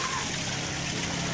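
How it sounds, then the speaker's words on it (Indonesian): Water trickles and splashes steadily in a stone garden waterfall at a house, a constant close wash of falling water with no pauses. "Inilah Taman Cadas Air Terjun, lokasi di rumah Bapak Haji Imam Senen"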